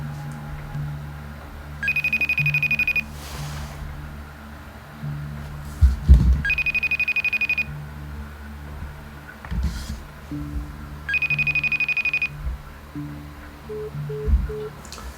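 Automated phone line tone for an unavailable number: three identical bright, steady beeps about a second long, spaced several seconds apart, over a low background hum with a few thumps in between.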